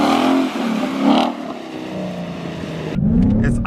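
A 2015 Mustang GT engine revs loudly and continuously while the car spins donuts on ice, the roar dipping briefly and surging again near the end, with no talking.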